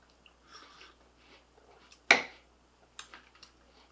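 Someone bites an original Tim Tam chocolate biscuit with one sharp, close crunch, followed by a few softer crisp chewing clicks in a quiet room.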